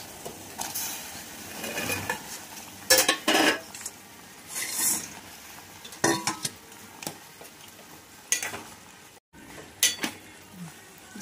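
Fried gulab jamuns go into hot sugar syrup in a pot and are stirred, with clinks and scrapes of a utensil against the pot and soft bubbling in between, with no one speaking.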